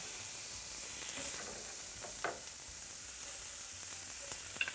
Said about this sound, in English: I have a small onion that I have thinly sliced, and I'm gonna put that in the skillet.